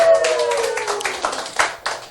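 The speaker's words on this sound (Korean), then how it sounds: "바로 여러분 박수 주세요." Applause from a banquet audience during a toast-making session, a dense burst of hand clapping that fills the short stretch at steady loudness, with a faint voice briefly underneath.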